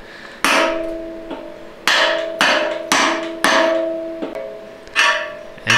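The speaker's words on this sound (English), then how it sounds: "Then using a socket to hammer it in the rest of the way down." A new bushing in a 4L60E / 700R4 transmission is driven down with a socket and hammer: about six sharp metallic blows, each ringing out briefly, spaced roughly a second apart.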